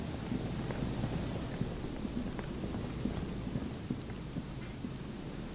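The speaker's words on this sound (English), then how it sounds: "The reeds chafe against one another while the rain falls." Steady rain falls in the game Disco Elysium, a dense continuous patter with soft low rumbling beneath and scattered droplet ticks, evenly loud throughout with no voices.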